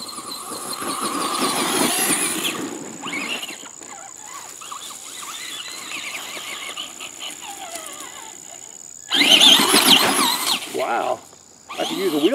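A Traxxas Bigfoot RC monster truck with a brushed motor runs through mud, its high, thin electric whine rising and falling in spurts, with people talking nearby.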